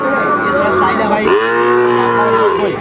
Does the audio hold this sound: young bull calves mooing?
yes